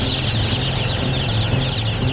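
A large commercial chicken house holding many thousands of birds, with a dense, continuous wash of clucking and chirping from the packed flock, loud and steady with no pauses.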